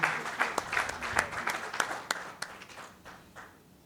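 A round of applause from the audience at an economy and investment talk, dense clapping that fades out over a few seconds.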